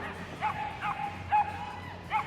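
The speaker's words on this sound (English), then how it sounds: "we've got noisy Kiva, the Pyrenean, on this side" A Pyrenean mountain dog at a Crufts obedience display gives several short yips and whimpering barks in quick succession, close and fairly clear over a low hall murmur.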